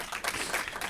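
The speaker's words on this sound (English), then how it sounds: "I think everybody in the room deserves a round of applause." Applause from a room full of people at a conference gathering, steady clapping lasting under a second at moderate volume.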